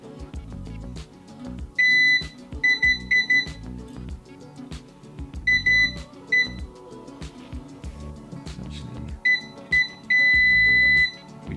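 Repeated electronic beeps from a multimeter continuity test on the circuit of a faulty Autder portable air compressor, coming in short bursts and longer steady tones over clattering workbench handling noise.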